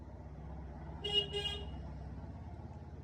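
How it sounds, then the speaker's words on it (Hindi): Two short car horn toots sound in quick succession at 3:30 a.m., fairly faint, over a low steady engine and road rumble. "सुबह के 3:30 बजे भी लोगों को चैन नहीं है, हॉर्न मारते हुए जा रहे हैं"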